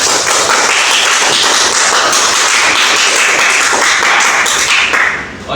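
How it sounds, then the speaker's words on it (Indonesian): A classroom of schoolchildren clapping their hands together, loud dense rhythmic clapping filling the room, fading slightly at the end. "Tepuk tangan dulu."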